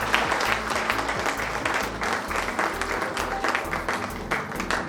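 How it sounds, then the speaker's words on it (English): An audience claps at a school investiture ceremony, sustained loud applause filling a hall with a thumping low beat of music underneath. "May we have a huge round of applause."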